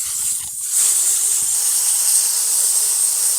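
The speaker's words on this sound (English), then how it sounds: "I'll take the hose and go from there. You might want to stand back because it sprays" A garden hose sprays water hard, a loud steady hissing rush that starts abruptly and continues without a break, with a few faint knocks early on.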